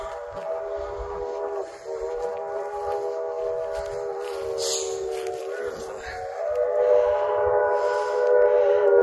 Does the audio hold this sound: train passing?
yes